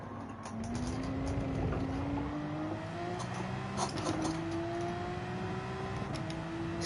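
A Porsche GT3 race car engine in Gran Turismo 7 drones steadily through an Open lobby sprint race, its pitch rising slowly through the gears alongside other cars, loud and continuous with no talk.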